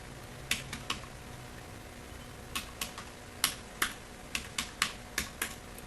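A computer keyboard is used to type an SQL insert query, with a dozen sharp, separate keystrokes in irregular clusters over a quiet room.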